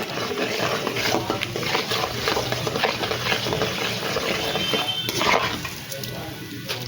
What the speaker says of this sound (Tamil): கடலப்பருப்பு போடுறோம். சமையல் கடலப்பருப்பு நல்லா வதங்கட்டும்.